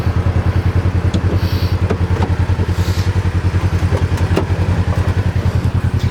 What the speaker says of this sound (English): That motor's nice and smooth and quiet.